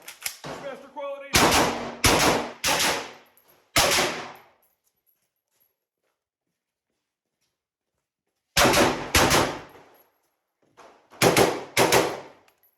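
Gunfire from an ACR rifle at a shooting match stage, with a malfunction: a few quick clusters of loud sharp shots, then a long pause before more bursts of shots.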